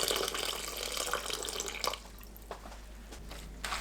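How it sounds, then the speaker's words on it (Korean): Dried radish strips are rinsed in water, giving a steady faint splashing and running-water wash with a few drips as the flow eases. "무말랭이를 물에 헹굽니다."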